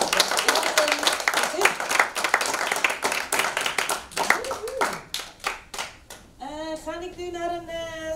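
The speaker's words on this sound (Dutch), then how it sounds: "Mag ik alsjeblieft een heel hard applaus voor deze zien?" An audience claps for several seconds, with the bursts growing uneven toward the end. A voice then breaks in briefly over the tail of the clapping.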